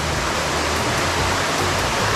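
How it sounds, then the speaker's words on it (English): Water of the small Palatuvier waterfall in Tobago pours in a steady, broadband rush, loud and close, continuous without breaks and no voices over it. "welcome to Palatuvier Waterfall, very small waterfall"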